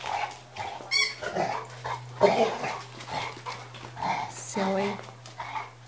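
An old dog whines and makes small grunting and snuffling noises, close by in a room, under near-constant talking and a steady low electrical hum.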